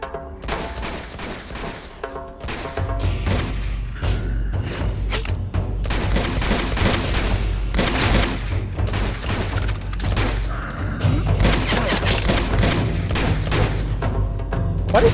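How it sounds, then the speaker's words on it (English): Rapid bursts of game gunfire from Uncharted 2 fill the clip, loud and dense volleys of shots with booming impacts layered over heavy music, continuous throughout with no talk. "I can't just shoot like consecutive shots."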